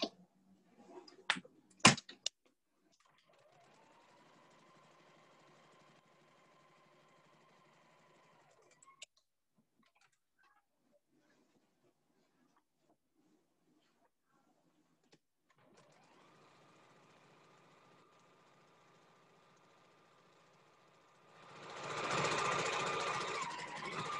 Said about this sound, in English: So let's go ahead and take this back to the machine. Do that last stitch.